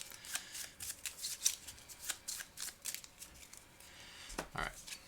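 Bird cards from a board game are shuffled by hand at close range, making quiet, quick riffles and soft slaps in an irregular rhythm with short pauses between bursts.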